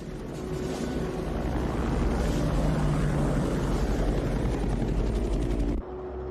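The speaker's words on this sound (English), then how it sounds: "I sent Davis and Proctor to ride shotgun for the Blackhawks, over." Black Hawk military helicopters flying overhead in an action film, a loud steady rotor roar with rhythmic blade chop, continuous and close, cutting abruptly near the end.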